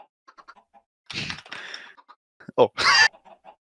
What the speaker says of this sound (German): ich lasse die Hühner jetzt alle raus